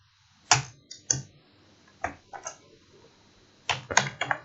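Scattered keystrokes on a computer keyboard while JavaScript code is typed, a few quick clicks, then a pause, then a final cluster, crisp and close in a quiet room.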